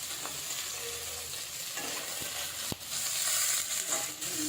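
Paneer pieces shallow fry in oil in a pan, giving a steady soft sizzle with occasional sharp clicks and scraping stirs, fairly quiet and close with no talking.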